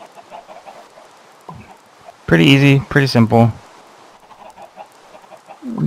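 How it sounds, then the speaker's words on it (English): Chickens clucking in the Minecraft video game, short blocky game-animal clucks in a brief burst near the middle, with someone talking casually before and after. "and we have more chickens."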